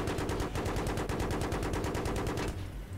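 Rapid automatic gunfire from the video game Battlefield 3 rattles in a dense, loud burst of closely spaced shots for most of the stretch, then breaks off near the end.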